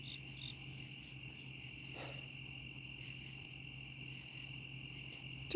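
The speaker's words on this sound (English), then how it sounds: "The crickets are appropriate." Crickets chirp steadily in a quiet night setting, a continuous high trill that sounds faint and distant, with no one talking.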